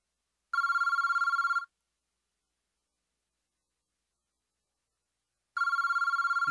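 A telephone rings unanswered in two separate electronic bursts, each lasting about a second, with silence between them. The ringing is clear, close and unaccompanied.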